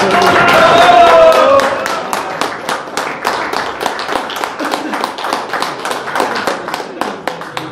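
At a surfcasting club league season summary, an audience applauds the first-place winner with a brisk burst of clapping that settles into a steady rhythmic beat, with a loud voice over the start.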